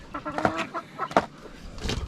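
Hens in a chicken coop cluck in a few short, close bursts with brief pauses between them, and no voices are heard.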